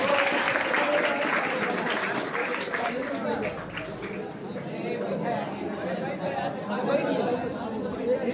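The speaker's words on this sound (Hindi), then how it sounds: "उनका तालियों द्वारा स्वागत कीजिए।" An audience at a school function welcomes a lecturer with applause, steady clapping blended with crowd chatter and murmuring voices throughout, fairly close and evenly loud.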